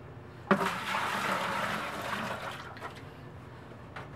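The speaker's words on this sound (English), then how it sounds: "splashed less water emptying them than I did filling them" Water splashes and pours out as seed starter trays are emptied, a sudden loud gush that runs for about two seconds and then trails off into a few small drips and splashes.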